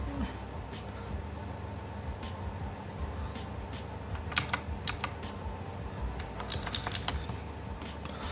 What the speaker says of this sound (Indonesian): press a few letters on the keyboard and the key will work